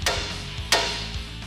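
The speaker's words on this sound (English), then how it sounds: "Sometimes this may require a few hits with a hammer." Sharp metallic hammer blows on a truck's steel spindle while freeing it from the ball joints during a suspension drop job: two distinct strikes about half a second apart, close and fairly loud, with a low background hum.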